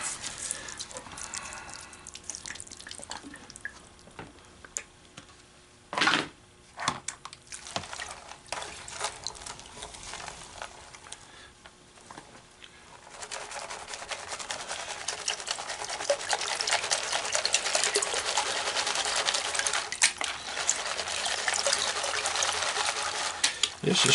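Gold paydirt of over 30 mesh swirled and washed in a pan of water, giving a steady watery sloshing and trickling that grows fuller and louder in the second half, with brief knocks earlier on.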